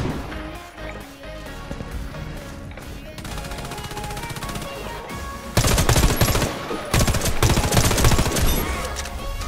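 Rapid automatic fire from a PM-84 Glauberyt submachine gun in the shooter game Warface rattles in dense, loud bursts, with a brief gap before a heavier, sustained stream of shots.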